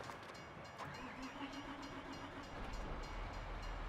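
A train rolls along the rails in the farming game Farming Simulator 22, a faint, steady rumble with light wagon clatter and a soft horn-like tone.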